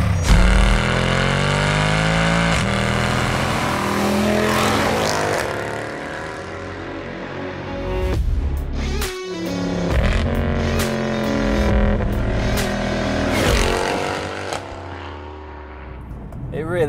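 The 6.2-litre V8 of a grey Mercedes-Benz C63 AMG estate rumbles loudly and revs repeatedly, the pitch climbing and falling with each burst, a brief cut in the middle.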